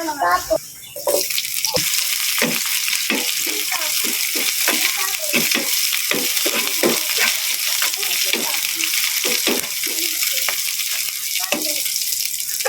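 Loud, constant sizzling and crackling of pork steak frying in hot oil, close up, with occasional clinks and a voice speaking briefly at the start.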